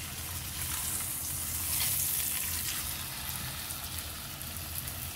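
A whole fish fries in a pan for Kerala-style meen pollichathu, giving a steady, dense sizzle with crackling hiss that stays loud and close throughout, with no voices.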